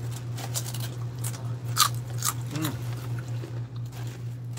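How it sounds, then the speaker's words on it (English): A homemade potato chip loaded with French onion dip is bitten and chewed close up, giving several quiet, crisp crunches over a steady low electrical hum. "Listen to the chip crunch."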